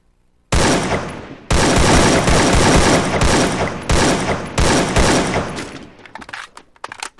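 Heavy bursts of rapid AK-47 gunfire in a video game, loud and close, in several long volleys separated by brief gaps, trailing off into scattered shots and echoes at the end.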